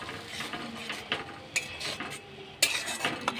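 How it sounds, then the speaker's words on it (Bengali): Mustard paste being stirred into a pan for a spicy shrimp and elephant-foot-yam stalk curry, with a run of soft scrapes and clinks, a sharper knock near the end, and no talking. "এবার এই সর্ষে বাটাটা আমি এর মধ্যে দিয়ে দেবো। ভালো করে নাড়াচাড়া করে নেব।"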